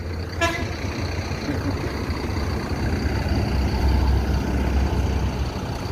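An intercity bus arriving at a West Sumatra terminal gives a short loud horn toot early on, then its engine rumbles on steadily up close amid road and station noise.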